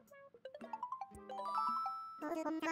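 A phone ringing in the Animal Crossing video game: a bright, tinkling chime melody of quick rising and falling notes that repeats, moderately loud and with no talk over it.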